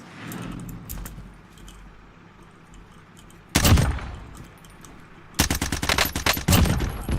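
A G3A3 battle rifle in the shooter Call of Duty Warzone fires a short loud burst, then after a pause a longer rapid string of sharp, close shots.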